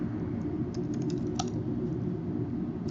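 Typing on a computer keyboard while working in Vectorworks 2024 software: faint, scattered key clicks over a steady low room hum, with no talk.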